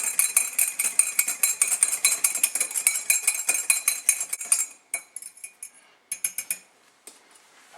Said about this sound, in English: we need to stir in 2 teaspoons of sugar until it is dissolved. So I'm going to use a tiny whisk for this.